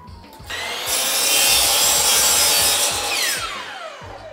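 A saw cuts through a long pine board with a fast, even rasp of back-and-forth strokes, building loud over a few seconds and then easing off, close up with no talking.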